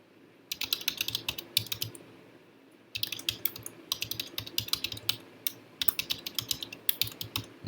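Rapid keystrokes clatter on a computer keyboard in close, uneven bursts separated by short pauses, a steady burst of typing while an email login is set up, with no voices.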